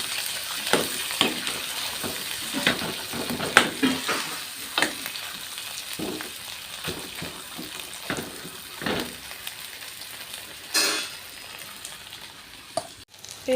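Potato pieces frying in a pan with onion and turmeric, a steady close sizzle broken by repeated scraping stirs and clatters of a spoon, with no talking.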